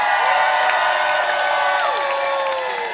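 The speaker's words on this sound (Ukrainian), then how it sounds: "Оплески, оплески!" A television studio audience at a singing game show applauds and cheers, a steady wash of crowd clapping and whoops that carries on without a break and fades slightly toward the end.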